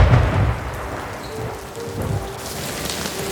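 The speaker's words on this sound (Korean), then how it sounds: "그날 밤 우박을 동반한 폭풍이 마을을 덮쳤어요" A hailstorm pours down with heavy rain and rolling thunder, a loud, dense wash of drumming drops with low rumbles that swell and fade, heard alone with no voices.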